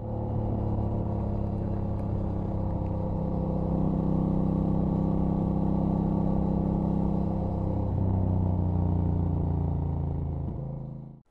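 An Aprilia Dorsoduro 900 supermoto motorcycle engine rumbles steadily while riding, a loud continuous drone with shifting pitch as the revs change, fading out at the very end.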